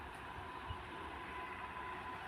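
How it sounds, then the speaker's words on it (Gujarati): A diesel train rumbles past at a steady, moderate level, a continuous low roar with a faint hum and no voices over it. "આજે હું ટ્રેનની પાસે આવી ગઈ છું, જો"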